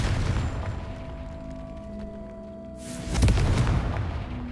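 A Confringo fire spell blast in Hogwarts Legacy goes off as a sudden loud burst after a quieter stretch, followed by a rumbling, crackling tail.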